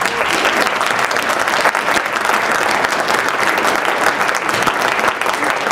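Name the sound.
audience applause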